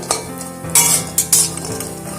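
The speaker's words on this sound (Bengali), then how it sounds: "এবারে বড়িগুলোকে একটা পাত্রে তুলে নেব" Fried lentil dumplings are lifted from a pan into a bowl, with a few sharp metal clinks and scrapes of utensils over a faint sizzle, close and fairly loud.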